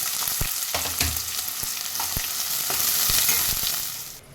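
Finely chopped small onions fry in a hot pan for prawn biryani, a loud continuous sizzle with intermittent spatula knocks and scrapes, fading slightly at the very end.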